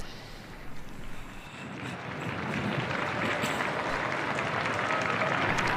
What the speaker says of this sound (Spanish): Y también muy ventoso.